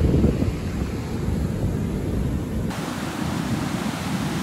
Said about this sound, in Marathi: खूप मोठा लाटा आहे.